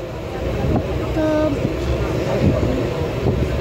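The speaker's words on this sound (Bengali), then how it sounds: "আওয়াজ শুনতে পাচ্ছ ট্রেনের" Howrah–Katwa local train running, heard from inside the carriage as a loud, steady rumble with faint squeaks and rattles throughout.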